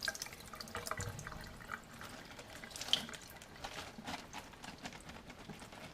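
Running water splashes steadily over about seven pounds of cabbage being rinsed in a sink for kimchi, a continuous close hiss with small irregular spatters and no talking.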